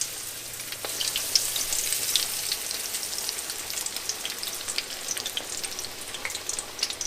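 Floured chicken pieces sizzle and crackle in a frying pan, a continuous bright hiss dotted with sharp pops and spits, fairly close and with no talking.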